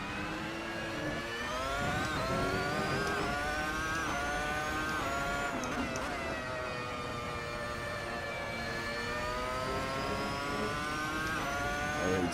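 A Williams FW26 Formula 1 car revs hard on an out lap at Monza in a racing game, its high-pitched engine climbing and dropping through gear changes, steady and prominent throughout.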